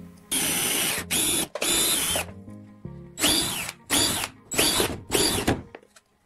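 A power drill bores holes in a plastic bottle in about six loud, close bursts, its motor whining up and down in pitch with brief gaps between each hole.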